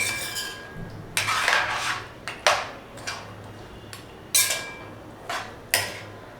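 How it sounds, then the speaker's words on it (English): A spoon stirs mutton masala curry in a pot, sounding as a series of sharp metallic clinks and scrapes against the pot at irregular intervals, close and fairly crisp, with quiet pauses between them. "Give it a nice good mix."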